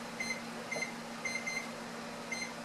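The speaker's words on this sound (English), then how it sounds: "I'll set a timer in the oven." A kitchen oven timer gives short, high electronic beeps in small clusters against a constant low appliance hum, with no talking.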